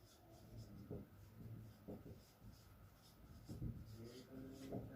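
Marker or chalk strokes on a classroom board as an English grammar example is written, with scratchy squeaks in short bursts over a low room hum, with no speech.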